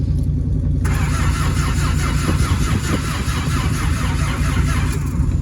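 A propane-fueled forklift engine cranks and sputters in the cold, struggling to catch, with a steady loud mechanical churn running throughout.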